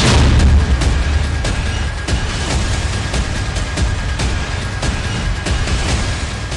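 A hypersonic missile striking Tel Aviv sets off loud, rumbling blasts, with a continuous heavy roar broken by repeated sharp booming bursts. No voices are heard.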